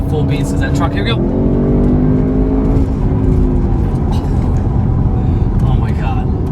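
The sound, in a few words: 2021 Audi RS6 Avant accelerating hard in RS mode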